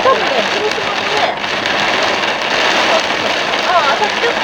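Sudden torrential rain drums on a car driving National Route 2 between Shiwa and Hachihonmatsu in Higashihiroshima, a loud, close, continuous patter across the body of the car, with faint tones and voices underneath.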